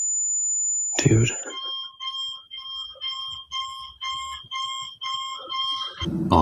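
A strange, steady electronic alarm pulses in a repeating rhythm of short tonal beeps, fairly loud and close, opening with a sustained high tone and a burst of noise before the pattern begins.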